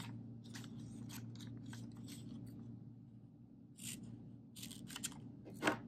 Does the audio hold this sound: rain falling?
no